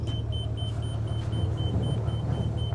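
A Renegade Verona Super C RV on an M2 106 chassis idles with a low, steady diesel rumble while its levelers emit a regular, evenly spaced beep over the engine.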